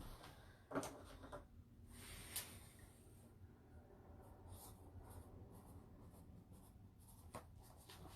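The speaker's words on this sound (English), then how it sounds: "I'm going to write my name on the back of mine." Pen or pencil writing a name on the back of a sheet of paper, quiet scratchy strokes close up with a few soft handling knocks, no talking.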